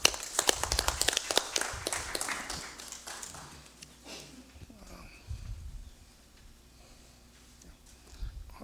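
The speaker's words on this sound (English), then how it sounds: "Can we give her a round of applause?" Applause ripples through a legislative chamber during the 21st Congress 2nd Regular Session: a few seconds of brisk clapping that quickly thins out, leaving soft room murmur and faint movement.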